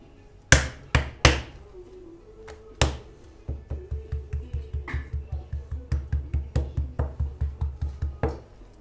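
Meat is pounded with a mallet at a butcher's shop in Bor, Niğde, chopping it into small pieces: a few loud separate whacks, then a steady, fast run of close, sharp thuds, with no talk.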